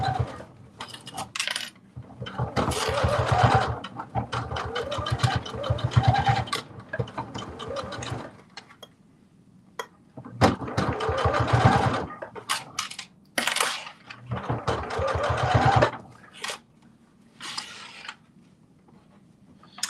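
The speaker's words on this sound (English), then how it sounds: "Now we're going to do our basting stitch all the way around." A sewing machine runs a basting stitch around a slipper in several bursts of rapid mechanical chatter, separated by quiet pauses and small handling clicks.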